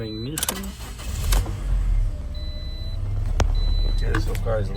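A Toyota engine cranks and starts with a newly programmed key, a short starter whir followed by a low steady idle rumble. Beeps and faint clicks come through, and people talk nearby.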